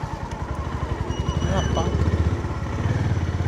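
A motorcycle engine runs steadily at low revs with a close, rhythmic throb while the bike pulls into hotel parking after a ride near Kodaikanal; a voice speaks over it.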